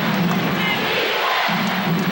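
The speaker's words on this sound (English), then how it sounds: "Chant of defense from the crowd, and the whistle underneath." A basketball arena crowd at the 1991 Bulls–Pistons Eastern Conference Finals chants 'defense' in a loud, rhythmic roar that rises and falls over a continuous crowd din.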